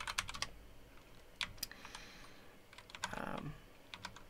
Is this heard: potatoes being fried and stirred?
no